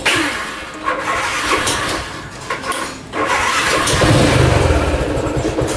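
Motorcycle engine cranking with a few starter bursts, then catching and running loud and steady close by, no voices.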